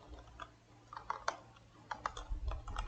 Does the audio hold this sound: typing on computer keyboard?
yes